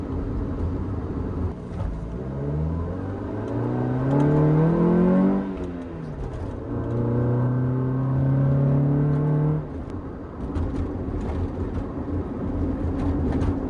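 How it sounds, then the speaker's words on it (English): A 1995 Honda Civic on MaXpeedingRods SP1 T6 coilovers drives over potholes, its engine note rising and falling with rumbling road noise and suspension thumps. "There's a lot of potholes right here that I'm intentionally going over right now"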